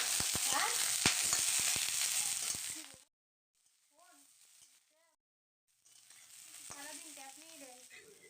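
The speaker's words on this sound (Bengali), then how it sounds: "তেলটা ভালোভাবে গরম হয়ে গেলে সেখানে আমি কেটে রাখা এবং ধুয়ে রাখা ফুলকপিগুলোকে অ্যাড করে দিচ্ছি।" Washed, cut cauliflower pieces hit hot mustard oil in a pan and sizzle loudly for a few seconds, then the sound cuts out. A quieter sizzle returns later with faint voices.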